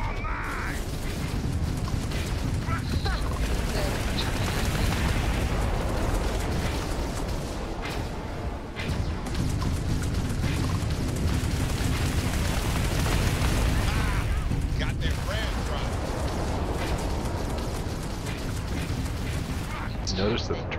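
A Starfield space battle against Crimson Fleet pirates, with a lone Kepler R ship outnumbered three to one, fills the scene with a dense, continuous roar of ship weapons fire, booming impacts and explosions. Someone narrates over the din.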